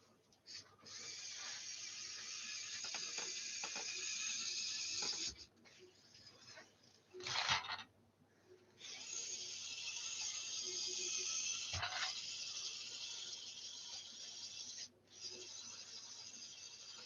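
Gears in a LEGO Ford F-150 Raptor model slipping and grinding in reverse: repeated stretches of raspy, ratcheting whir with brief clicks and pauses, close and quiet.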